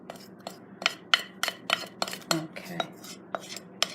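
A utensil scrapes herbal salve from a container in a steady series of sharp metallic clinks and scrapes, about two per second, fairly close. A single brief spoken word comes in partway through.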